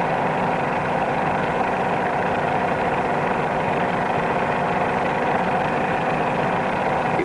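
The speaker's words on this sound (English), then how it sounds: "Pull the nose up too high, you can hear the engine begin to labor." A light aircraft engine drones steadily with a strained, laboring tone as the nose is pulled too high in a climb, a continuous mid-pitched hum and vibration with no speech.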